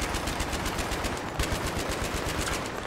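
Sustained automatic fire from Battlefield 3 rattles off in rapid, evenly spaced bursts, loud and close, filling the whole stretch without a break.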